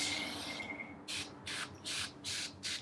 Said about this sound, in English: So I'm going to start spraying on this piece of paper.